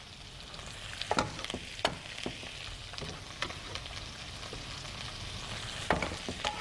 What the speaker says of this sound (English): I'm going to throw my garlic in.